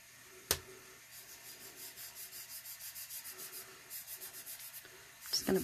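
Soft rhythmic brushing and rubbing as chameleon pigment powder is worked onto a surface with a makeup brush and gloved finger, faint and close in steady strokes, with a sharp tap early and clatter at the end.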